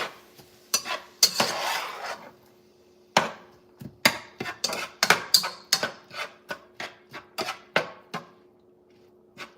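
A spoon stirring Zuppa Toscana soup in a pot, heard as a series of sharp, close clinks and scrapes against the pot. The strokes come in uneven bursts with short pauses between them.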